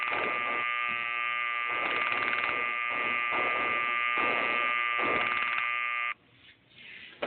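A faulty washing machine gives off a harsh electric buzz with pulsing surges, loud and continuous for about six seconds before cutting off abruptly, followed by faint rustling.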